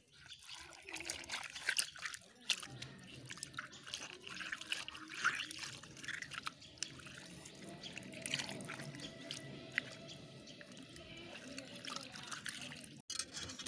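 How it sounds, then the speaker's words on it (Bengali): Stinging catfish being rubbed and washed by hand in water, with steady splashing, dripping and trickling close by throughout, a few sharper knocks standing out. "মাছগুলো এখানেই ডলি"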